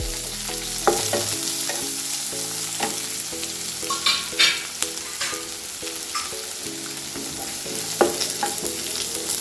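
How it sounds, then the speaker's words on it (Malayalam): Sliced onion sautéing in a pan for palak pulao, a steady sizzle with repeated scraping stirs and occasional sharper clinks of the utensil against the pan, close and fairly loud throughout. "ഒരു ചെറിയ സവോള ഞാൻ നീളത്തിൽ നോക്കി വെച്ചിട്ടുണ്ട് അതൊന്ന് വഴറ്റാം"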